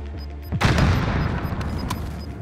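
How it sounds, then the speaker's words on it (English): Grenade explosion in the video game Call of Duty: Modern Warfare: a sudden loud, close blast followed by a long rumbling, crackling tail that stays heavy to the end. "Throwing grenade!"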